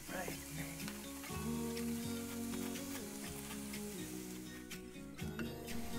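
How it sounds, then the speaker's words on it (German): Onions and parsley sweat in butter-flavoured rapeseed oil in a pan, giving a soft, steady sizzle with a faint voice-like hum beneath it. "Die Zwiebeln werden mit ein bisschen Petersilie jetzt erstmal angeschwitzt."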